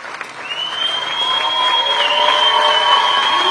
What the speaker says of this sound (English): Applause and lots of tears as this crowd surprised Corona Fire Battalion Chief Brandon Wilson.